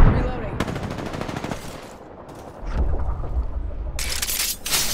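Rapid bursts of automatic gunfire in a video game, loud and close, with a lull in the middle before the firing picks up again.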